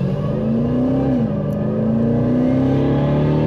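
A 2018 Jeep Grand Cherokee Trackhawk, a salvage vehicle, accelerating at about quarter throttle: a loud, close, steady engine drone whose pitch dips briefly and then climbs gradually.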